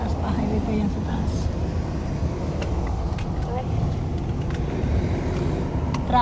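A steady low rumble of slow, congested highway traffic thick with trucks fills the scene, constant and moderately close, with a voice talking over it.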